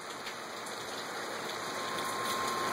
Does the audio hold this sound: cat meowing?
no